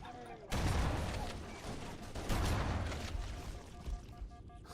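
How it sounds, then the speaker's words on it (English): Sticky grenade exploding on a Flood enemy in Halo CE: a sudden loud blast followed by a rolling, rumbling burst of debris and gunfire-like crackle that fades out over several seconds, with talk mixed in. "There was a sticky grenade on that flood."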